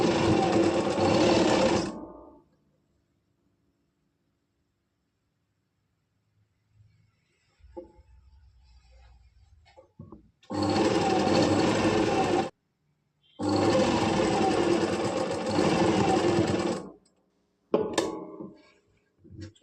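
A sewing machine stitches kameez fabric in three loud, steady runs of a few seconds each, separated by near silence and faint handling of the cloth.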